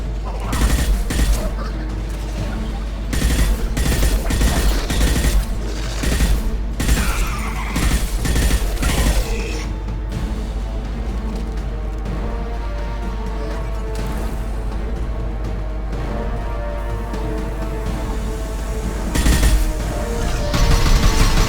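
Bursts of gunfire in the video game Mass Effect 2, dense and loud during the first ten seconds as repeated shots crack over a steady backing score, then fading to quieter intermittent fire before a brief louder flurry near the end.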